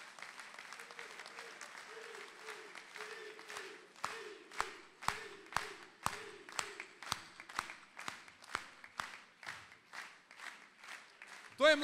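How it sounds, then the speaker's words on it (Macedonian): Crowd at an outdoor political rally in Karposh applauding, with scattered clapping under a speaker's voice that builds into strong, evenly spaced rhythmic claps, fairly distant and reverberant. "Еден голем аплауз за него."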